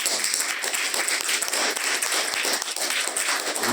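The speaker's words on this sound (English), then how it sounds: "please give him a warm round of applause." An audience at a panel discussion on the My Lai Massacre applauds warmly, dense, loud clapping close by that runs steadily for several seconds with no voices over it.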